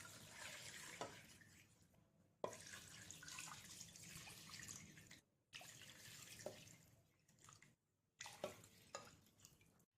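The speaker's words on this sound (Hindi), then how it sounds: "गोश्त के पीसेस को प्रेशर कुकर में डालने के बाद हम इसमें पानी डाल देते हैं।" Water pours and splashes into a pressure cooker holding mutton pieces in several bursts, with short pauses between them and faint drips, close by and fairly soft.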